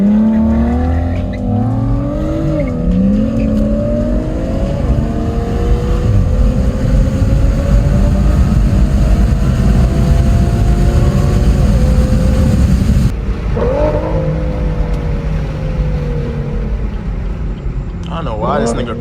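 A car engine roars and revs loudly at a car meet, a sustained close rumble with rising and falling pitch sweeps, under scattered talk.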